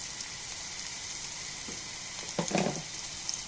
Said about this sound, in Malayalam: ഞാൻ ചെറിയുള്ളിയാണ് കാച്ചി വയ്ക്കുന്നത്